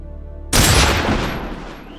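A single loud, sharp gunshot bursts out and rings into a long fading echo after a quiet musical opening, the final shot at the ending of Metal Gear Solid 3.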